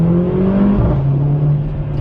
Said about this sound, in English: the exhaust really has the crackles and burbles